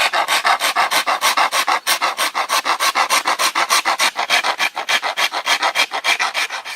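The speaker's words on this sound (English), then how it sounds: "Now I'm going to remove material off the other side here." Rasp or file working material off a bamboo recurve bow, a rapid, regular run of close, loud back-and-forth rasping strokes, about three or four per second, steady throughout with no talk.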